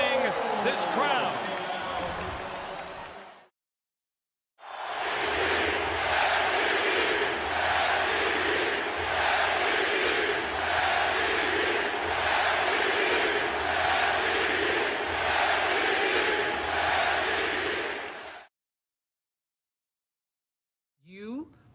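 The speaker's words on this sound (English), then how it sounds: "electrifying this crowd." A basketball arena crowd roars loudly and steadily for about fourteen seconds in an NBA game as Steph Curry takes the lead. A short burst of noise comes first, followed by a gap of near silence.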